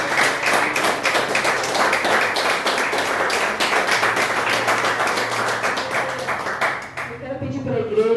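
A church congregation claps for Jesus in steady, dense applause that fills most of the stretch, then fades near the end as a voice begins speaking.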